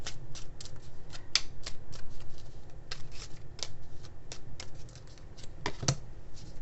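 Chinese fortune cookie oracle cards being shuffled, quick papery riffles and flicks in an irregular patter, close and fairly quiet, with no voices.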